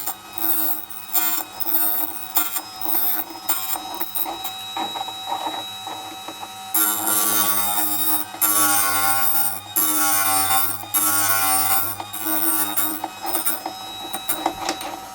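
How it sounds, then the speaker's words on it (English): A drill bit sharpening machine grinds steadily, a dense buzzing whir with rhythmic pulsing that grows louder and harsher partway through, no talking over it. "Okay, it's finished grinding."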